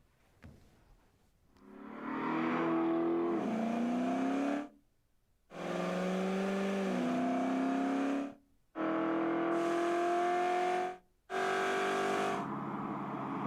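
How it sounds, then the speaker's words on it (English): A sound-library car effect: four loud, close engine passes that rev and shift pitch, each separated by a brief silence. "here's the car."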